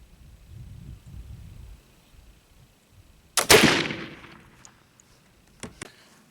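Single loud gunshot cracks out after a quiet pause, its blast decaying over a second, followed by a couple of faint mechanical clicks and a short metallic clack.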